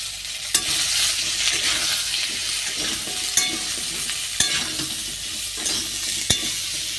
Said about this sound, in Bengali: এইবার কেটে রাখা সজনে ডাঁটা আর আলু এই তেলের মধ্যে দিয়েই ভালো করে ভেজে নেব